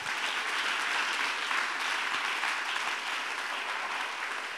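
A church congregation claps continuously in a dense, even wash of applause that holds steady from start to finish, with no speech.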